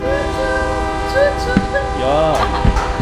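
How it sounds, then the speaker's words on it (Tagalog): Harmonic horn or whistle tones from a train at a Thai market sound in short bursts, with a rising swell near the end, over steady crowd murmur and nearby voices. "so sasakay tayo ng tren"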